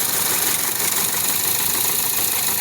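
Badly misfiring engine of a Toyota Vios, running steadily and loud up close with a rough, uneven rumble and no pauses.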